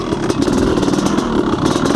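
A Honda CR500 two-stroke motorcycle engine putters close by with a rough, pulsing beat, steady and loud on its own.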